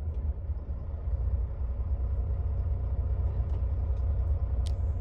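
A truck passing on a road in the United States, a low continuous engine rumble that stays steady and close throughout, with no voices over it.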